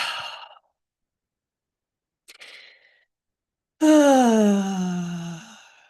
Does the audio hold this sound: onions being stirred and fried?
no